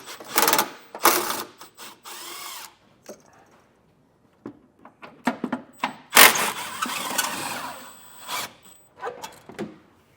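A hand ratchet backs out the 12mm bolts on the rear bumper brace of a 2025 Hyundai while a trailer hitch is fitted, giving close, loud bursts of rapid clicking broken by short pauses and scattered single clicks.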